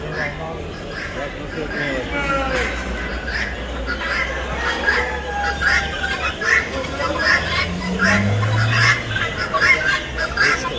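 Poultry at a Bursa bird market, with chickens, ducks, geese and quail squawking and clucking continuously over a busy crowd, people talking close by throughout.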